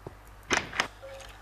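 Retro sound mod in Minecraft playing old-style chest and door sounds: a soft thunk, then two short bright clicks or creaks in quick succession, followed by a faint steady tone, heard alone.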